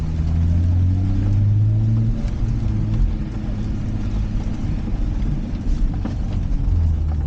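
A 2023 BMW M440i xDrive engine and exhaust while driving, a loud continuous low rumble with slight rises in pitch, no exhaust pops, and no talk.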